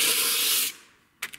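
A knife blade drawn along 150 grit sandpaper makes a loud, broad rasping scrape lasting under a second, then a short pause before a second brief scratching stroke begins.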